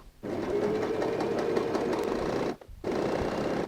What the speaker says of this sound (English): sew a 1/2 inch stitch starting and finishing with a back stitch